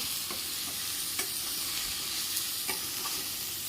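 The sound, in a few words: stirring fresh turmeric vegetable with masala in a pan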